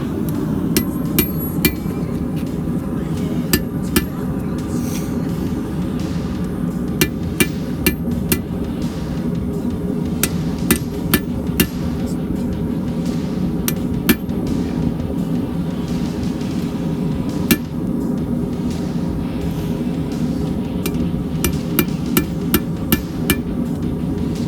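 Hammer striking hot steel on an anvil while forging a chisel, sharp metallic blows in irregular clusters over a steady low roar of a forge running throughout.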